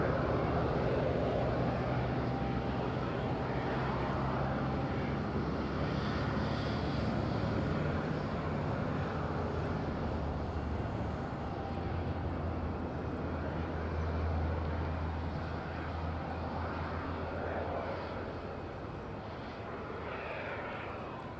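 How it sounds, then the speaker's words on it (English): An EasyJet airliner approaches to land at Madeira Airport, with a steady low jet-engine roar and broadband rumble held throughout, easing slightly toward the end, heard from a distance outdoors. "And we have EasyJet entering on downwind now."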